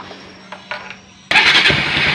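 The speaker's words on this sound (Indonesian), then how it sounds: "jadi sekarang tinggal kita starter" A Bajaj Pulsar 200NS motorcycle engine cranks with a few brief starter whirs, then catches abruptly and settles into a loud, steady running rumble close to the microphone.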